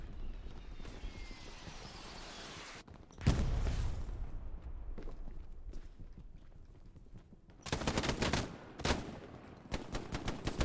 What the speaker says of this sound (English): Taking a few shots at Shuckle